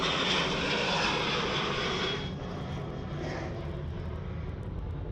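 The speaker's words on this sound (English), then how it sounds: "Okay, Qantas 737 now getting sporty." A Qantas Boeing 737 takes off at Sydney Airport, its jet engines a broad, loud roar heard from a distance that eases slightly partway through, with no voices.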